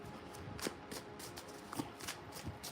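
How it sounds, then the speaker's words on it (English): A deck of tarot cards being shuffled close by, a quiet, soft riffling with a few brief sharper snaps, with no talking over it. "I'm just giving a good shuffle here."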